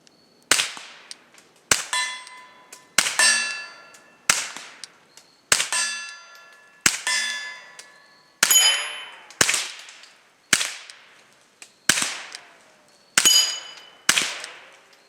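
A KelTec CP33 pistol fires a steady string of about a dozen sharp shots at steel targets outdoors, many answered by bright ringing clangs of hit plates, roughly one shot per second.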